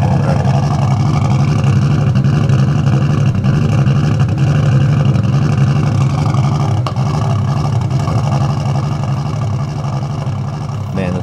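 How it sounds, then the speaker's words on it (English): Nissan Skyline R32 engine running after its first start on an AEM Infinity setup, a loud steady idle rumble that holds throughout at close range with no pauses. "I finally got the Skyline running."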